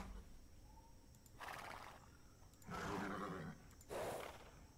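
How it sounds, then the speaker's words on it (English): Nisaean horses in the video game Age of Empires 2 give three short neighs and whinnies in succession, quiet and separated by brief pauses over a low background. "Nisaean horses from the menagerie in Sardis."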